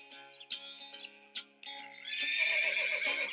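A horse whinnies in a series of high, wavering neighs with brief breaks, ending in a longer sustained whinny, close and clear.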